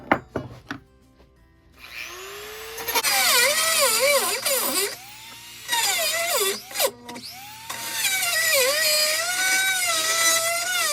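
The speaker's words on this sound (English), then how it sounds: "a grind bit, just going in there and kind of widening it out" A drill fitted with a grinding bit widens a hole for threaded rod on a Sprinter van roof rack, a whining, squealing grind in several bursts with short pauses between them, loud and close.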